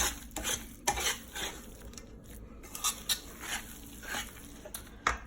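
A spoon scrapes and clinks against a bowl while sweet potato pudding batter is mixed with coconut milk and a pinch of iodized salt nearby, giving irregular close taps and strokes over soft background hiss, with no talking.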